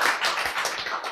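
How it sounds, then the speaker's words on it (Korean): A church congregation breaks into quick, dense hand-clapping during a sermon, steady crackling claps carrying through the whole short moment with no talk over them. "박수!"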